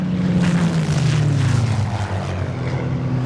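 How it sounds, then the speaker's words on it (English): Roar of World War II aircraft engines, a loud, steady droning hum that dips slightly in pitch as it passes, with no voices over it. "So you'd hear the roar of the engines and the stutter of the guns and screaming of the engines, really."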